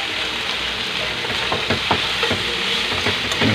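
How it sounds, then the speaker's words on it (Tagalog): Tofu sisig being stirred in a frying pan, a steady close sizzle with scraping utensil strokes cutting through it several times. "Haluin natin yan."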